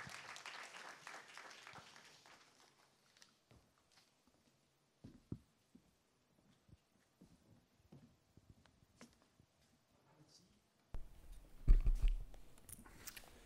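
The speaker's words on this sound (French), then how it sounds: "Nous allons donc, sous vos acclamations, accueillir Franck Tonini." At a business conference, an audience gives faint applause to welcome a speaker. The clapping fades away within the first couple of seconds, followed by scattered soft knocks and a louder rustling burst near the end.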